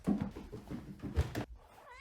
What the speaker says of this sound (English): My cat does like meows all the time